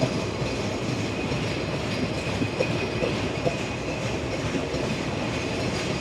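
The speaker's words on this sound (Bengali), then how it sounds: "33 মিনিট লেটে ঈশ্বরদী জংশনে প্রবেশ করলো আমাদের সীমান্ত এক্সপ্রেস" The Simanta Express intercity train rolls into Ishwardi Junction, a steady, close rumble of wheels and carriages with faint rhythmic clatter and a thin metallic whine throughout.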